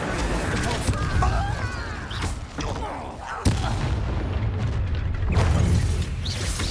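The Incendio fire spell from Hogwarts Legacy goes off as a few loud booming bursts amid clashing combat effects, with a voice talking over the fight.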